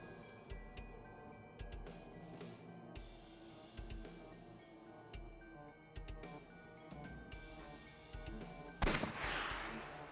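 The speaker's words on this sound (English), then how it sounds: "I'll try shooting it." A gunshot fired at a television in the video game AI: The Somnium Files, a sudden loud crack near the end that follows a stretch of game music with a steady beat.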